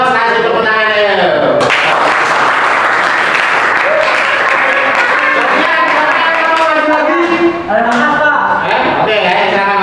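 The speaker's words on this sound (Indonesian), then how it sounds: "Awas kasih tepuk tangannya" A crowd of spectators bursts into loud, sustained clapping that fills nearly ten seconds, with a brief break near the end; voices can be heard at the start before the applause takes over.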